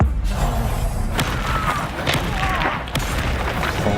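Confringo explosive spell blasts in Hogwarts Legacy, a dense run of booming thuds and crackling impacts over steady game noise, with brief bright zaps between hits.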